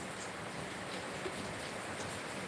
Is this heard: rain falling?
yes